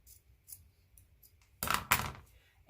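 Scissors cutting along a line of decorative trim, two quick close snips near the end after a quiet stretch.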